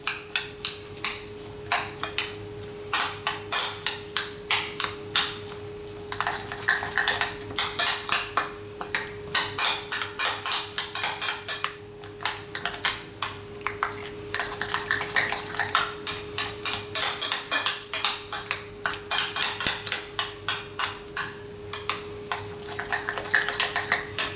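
Cucumber with fresh and dried mint is mixed in a bowl for raita, giving a close, steady stream of quick utensil clinks and taps against the bowl for over twenty seconds, with no talking.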